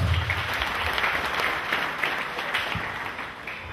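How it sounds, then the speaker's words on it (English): A church congregation applauds at a Cameroonian prophecy service, with sustained, dense clapping from a large crowd at moderate distance, continuous throughout. "Clap for Jesus Christ."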